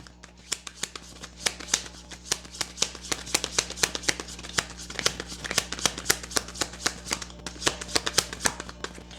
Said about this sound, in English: I am the worst shuffler sometimes.